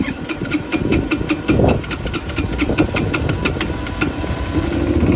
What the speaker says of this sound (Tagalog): ang hirap pumandar nitong motor guys kasi kwan negative yung temperature negative 2